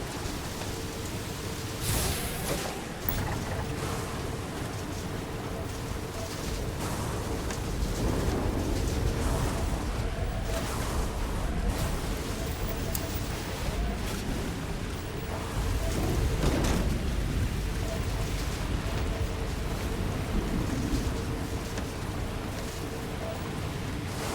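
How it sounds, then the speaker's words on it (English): Steady roar of freezing rain with low rumbling thunder swells in a Starborn video game desert setting, loud and continuous throughout with heavier surges midway and near the end. "Let's get out of the freezing rain in the middle of the desert."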